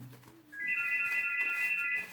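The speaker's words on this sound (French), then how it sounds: "Ah, c'est le téléphone, c'est encore une publicité." Phone ringing indoors with an advertising call, a steady electronic tone that rises in and holds for over a second after a brief low murmur.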